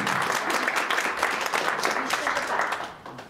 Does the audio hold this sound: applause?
yes